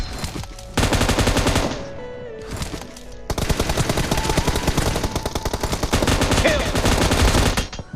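Rapid automatic gunfire from a mobile shooter game rattles loudly in long sustained bursts, a short break, then more continuous firing, with faint game effects underneath.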